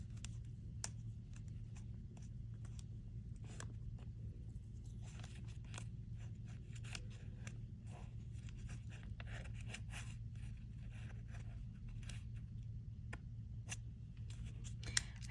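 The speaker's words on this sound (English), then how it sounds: "I think I need my thinner scissors." Quiet, repeated snips and paper scraping from scissors cutting paper, close and soft, over a steady low hum, with no talking.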